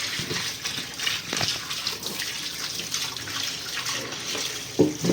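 Running tap water gushes steadily into a sink while chicken is rinsed under it, with occasional splashes and soft knocks.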